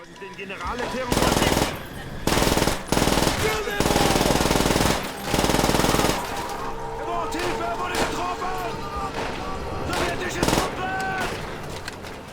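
In Call of Duty: World at War, a PPSh-41 submachine gun fires rapid full-auto bursts with brief pauses, while a voice talks faintly under the game's gunfire and background effects.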